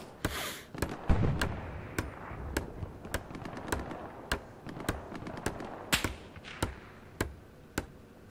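Gunfire in the World War II shooter Hell Let Loose, aimed at the player: a string of sharp, fairly distant cracks spaced unevenly over several seconds, with no talking.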